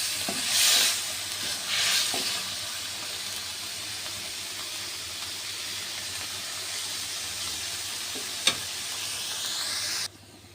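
Onion, garlic and green chilli paste frying in oil in a wok, giving a steady soft sizzle throughout, with a few louder stirring scrapes near the start and a sharp click toward the end.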